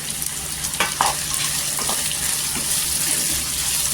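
Tomatoes and green chillies sautéing in oil, a steady broadband sizzle with a few brief stirring clatters near the start and a faint hum beneath, continuous throughout with no talk.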